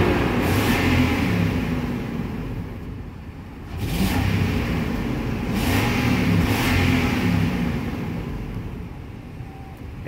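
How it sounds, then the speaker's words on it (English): The 5.6-litre V8 of a 2012 Nissan Armada Platinum Reserve SUV revs up and settles back several times, its rough exhaust, with a big exhaust leak, rumbling loudly and close. "It has a pretty big exhaust leak."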